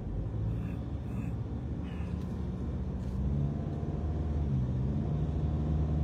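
Steady low rumble of a car driving on the road, heard from inside the cabin, continuous and moderately loud with a slight rise in road noise partway through.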